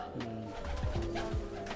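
A pigeon with broad wings coos in low, rolling calls, close by, amid a somewhat noisy backdrop.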